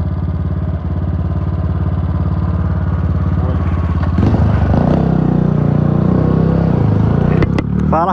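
A carbureted Honda Titan 150 motorcycle idles steadily up close, then revs up loudly partway through with a rougher, clattering edge, running on at a higher pitch before a few sharp clicks near the end.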